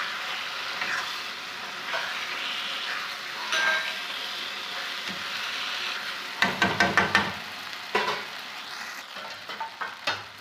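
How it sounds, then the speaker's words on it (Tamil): Manchurian being roasted in a pan, a steady loud sizzle with scraping stirs throughout and a burst of sharp metallic clinks of a spatula against the pan near the end, no talk over it. "இதை நல்லா வறுத்துக்கலாம்."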